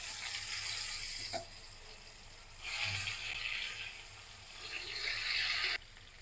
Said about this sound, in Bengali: বেগুনটা আমি সুন্দর করে ভেজে নিব